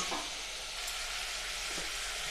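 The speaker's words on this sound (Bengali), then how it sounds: "এই তিনটাকে আগে দিয়ে আমি আবার দু মিনিট কষে নিচ্ছি" Potatoes, papaya and carrots sauté in a pan for a chicken stew, giving a steady broadband fry and sizzle. A faint stir or two comes through, and there is no talking.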